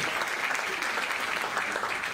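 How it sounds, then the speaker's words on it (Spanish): A steady, fairly close wash of audience applause fills a sports awards gala honoring athletes, dense and even for its short span with no talk over it. "Un fuerte aplauso para nuestro primer bloque de deportistas"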